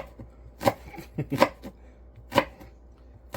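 A knife chopping onions on a cutting board for borscht, Russian beet soup, gives sharp, irregular thuds, several distinct close strikes spaced apart with quiet gaps between.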